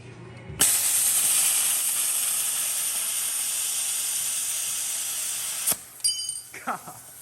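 Steady hissing cut on a metal part for a Firebird car, loud and continuous for about five seconds before stopping abruptly, followed by a few short clanks and scrapes.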